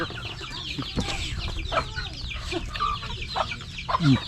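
Several chickens cluck and murmur nearby in scattered, overlapping calls amid soft farmyard background noise.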